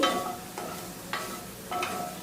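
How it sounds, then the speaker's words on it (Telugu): Prawns frying on low flame in a pan until dry, with a soft steady sizzle and three spaced stirring scrapes, no talk. "ఇలా డ్రైగా అయ్యేంత వరకు మనం రొయ్యల్ని వేయించుకోవాలి."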